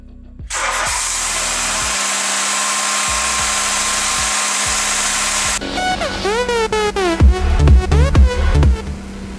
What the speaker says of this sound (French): On va voir si cette auto démarre.